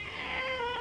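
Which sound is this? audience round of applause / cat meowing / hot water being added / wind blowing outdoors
cat meowing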